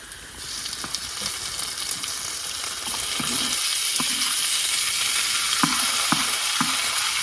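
Tomatoes hit poha frying in a pan at an outdoor forest campsite, setting off a loud, steady sizzle with scattered stirring clicks and scrapes; no one speaks.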